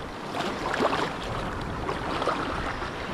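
Strong waves and a fast current wash against an island shore with steady broadband surging and churning, moderately loud and continuous, with a faint voice briefly in the background.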